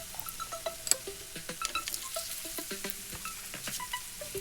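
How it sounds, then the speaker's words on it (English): Oil frying in a pan for cassava cheese balls, with scattered close sizzling pops and crackles, quiet and steady, no voices. "Now put a lot of frying oil into the pan because we're going to fry the cassava cheese ball."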